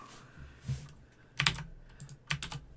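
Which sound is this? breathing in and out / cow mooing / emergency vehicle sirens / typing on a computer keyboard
typing on a computer keyboard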